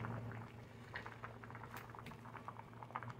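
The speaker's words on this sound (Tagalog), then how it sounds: "Wow, it's boiling guys." Tinola fish soup with sheri fish bubbling in a pot, faint irregular popping and gurgling of a gentle boil heard up close and alone.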